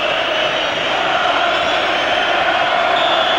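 A roaring crowd of nearly 70,000 fills an all-seater football stadium at the 1992 Zenith Data Systems Cup Final, Nottingham Forest against Southampton. The dense, steady wash of voices runs at an even level from start to finish.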